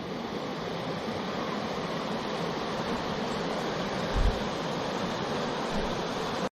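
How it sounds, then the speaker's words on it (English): A waterfall spills into a basin along a creek on the Hemmed In Hollow and Sneeds Creek loop trail, giving a steady, even rushing roar that fills the whole stretch with no voices. "Another nice waterfall and basin here along the creek."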